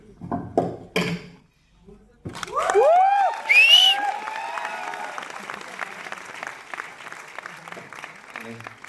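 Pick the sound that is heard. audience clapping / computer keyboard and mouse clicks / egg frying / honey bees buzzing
audience clapping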